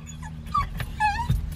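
An agitated dog indoors, reacting to other dogs outside with short high whimpers and thin yips in quick succession, close and fairly loud, with no talking.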